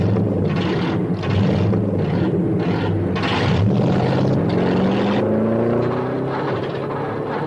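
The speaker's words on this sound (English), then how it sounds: "Gentlemen, start your engines." Several old car engines rumble and rev loudly at a race start, their pitch climbing as they speed up, a droning mechanical roar lasting the whole time.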